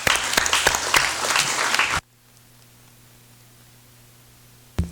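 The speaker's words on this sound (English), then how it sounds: "Let's please give them a round of applause." A legislative chamber during a congressional special session breaks into a brisk round of applause from many hands. It runs loud for about two seconds, then cuts off sharply to a quiet room hum.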